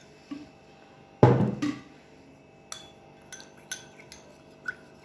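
A spoon stirs a baking soda, sugar and cold water mixture in a bowl, producing a louder scrape and clatter followed by several sparse, light clinks against the vessel in a quiet room.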